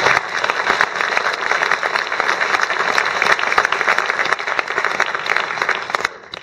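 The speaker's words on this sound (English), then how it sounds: "Round of applause." Vigorous audience applause during a Q&A panel discussion at Simon Fraser University in Vancouver, a thick continuous wash of clapping lasting about six seconds before dropping off abruptly.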